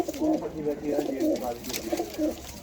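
Rampuri pigeons coo in a steady series of soft, rounded low calls close by, with a voice speaking intermittently over them.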